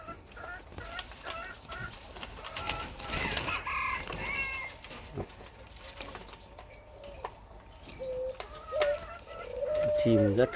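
Young turtle doves coo softly close by, with chirps and scattered rustling and clattering.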